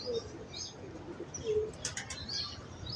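Pigeons on a Lahore rooftop give soft cooing calls while wings briefly flap and flutter nearby, a quiet outdoor scene with light chirps in the background.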